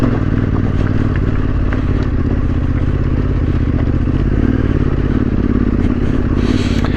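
Motorcycle ridden over a rocky, bouldery trail in the Yorkshire Dales, a loud, steady engine drone mixed with constant clattering and scraping from the rough ground, close and unbroken.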